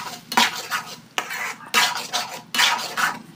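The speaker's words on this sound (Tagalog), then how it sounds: "Halo-haloin lang natin." A utensil stirs banana pudding in a pan, scraping in four or five loud, rhythmic sweeps with short pauses between, close and clear with no talking.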